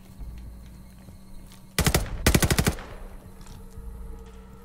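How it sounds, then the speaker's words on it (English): Gunfire in Call of Duty Vanguard on the Numa Numa Trail: a loud, rapid automatic burst, a short pause, then a second longer rattling burst, standing alone over a low game ambience. "Open fire on that tree!"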